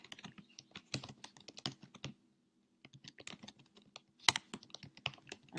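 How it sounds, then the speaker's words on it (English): Computer keyboard typing in bursts of quick, close keystrokes, with a short pause midway and a sharper clatter near the end, heard alone without talk. "I'm going to type a comment and see who can join us."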